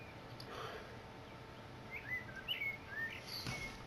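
A wild bird sings loudly out in the countryside, several bright chirping and whistled phrases standing out over a quiet steady outdoor background, close by and without talk.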